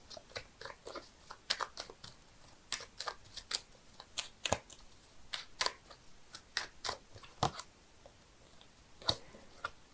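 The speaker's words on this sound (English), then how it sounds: "I'm shuffling the cards here" Tarot cards being shuffled close up, crisp irregular snaps and riffling clicks scattered over quiet, some bursts clustered and others isolated.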